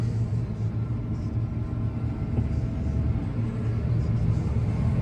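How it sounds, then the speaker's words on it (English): A steady, heavy mechanical drone of a farm machine's chopper running continuously, loud and close, with a low rumbling engine beneath it. "I've just backed up to the hedge and put the straw chopper into gear."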